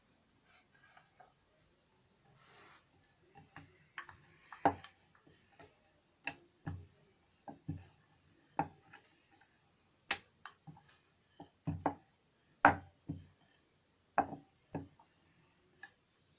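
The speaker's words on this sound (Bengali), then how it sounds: "পরোটা এখন বেলছি" Paratha dough rolled out with a rolling pin on a board, giving a run of sharp wooden knocks and taps at an irregular rhythm, close and clear, with no talking.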